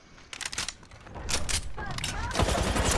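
Gunfire in Apex Legends, rapid bursts of automatic fire crackling in short clusters that grow denser and louder toward the end, close and intense.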